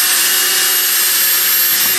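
A steady, loud power drill whirs continuously into material during a garage roof repair, a dense broadband grinding with no pauses and no voices.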